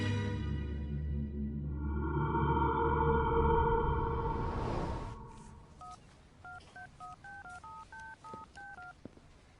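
A telephone call is placed, with a steady tone giving way to a rapid run of about a dozen loud, clean touch-tone dialing beeps in an uneven rhythm near the end, with no talk.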